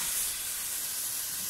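Browned onions and meat for mutton biryani fry in a pot with a continuous loud, close sizzle and hiss, no talk.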